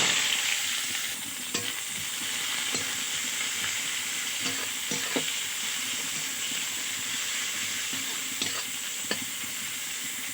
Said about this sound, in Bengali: এখানে ফোড়ন দিয়ে দেবো গোটা জিরে আর দিয়ে দেবো পেঁয়াজ কুচি